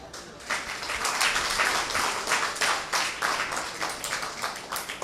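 An audience at a Hindu religious discourse claps steadily for several seconds, a dense, moderately loud patter of many hands with a slight rhythmic pulse, no talk over it.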